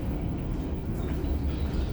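Inside a business-class carriage of the Sancaka Utara passenger train just after departing a station, a steady low rumble with rail clatter runs continuously, with no talk.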